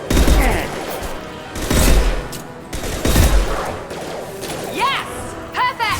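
Gunfire in Mass Effect 2, rapid bursts and single shots cracking repeatedly over several seconds, with impacts and combat noise throughout.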